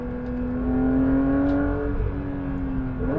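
A Porsche 992 GT3 sports car drives with its engine holding a steady, loud high-pitched drone that rises slightly in pitch, heard close from inside or alongside the car with no talking.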